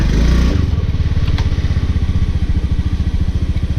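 A fuel-injected Honda Zoomer-X scooter with water in its fuel tank sputters and putters close up, its uneven, rapid firing pulses running loud and steady throughout.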